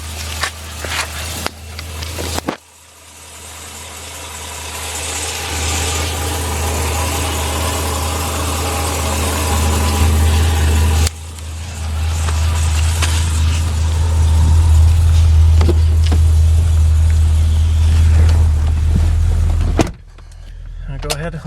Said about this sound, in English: Go ahead, I'll shut the car off